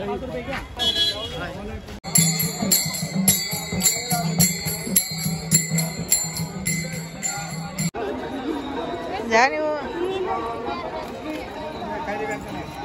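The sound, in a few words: morning crowd chatter at Pandharpur temple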